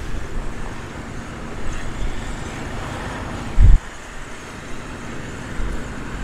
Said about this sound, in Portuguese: E o vento tá batendo e varrendo.